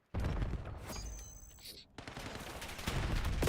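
Rapid gunfire from an esports shooter match fills the mix, with dense bursts of spam shots and explosions layered under a commentator's continuous talk throughout.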